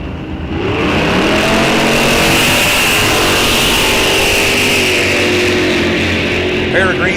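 Drag racing cars, one of them a Mopar, launching side by side at the Rock Falls Raceway NHRA Wisconsin State Championships, a loud sustained engine roar building and holding close by, with a track announcer talking over it.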